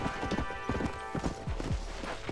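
Horse hooves clip-clop at a walking pace in the video game Red Dead Redemption, steady and fairly close over a quiet background of ambient music.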